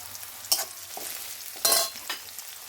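Garlic and ginger fry in oil with cloves, cardamom, cinnamon and mace, a soft sizzle broken by two loud bursts of stirring scrapes.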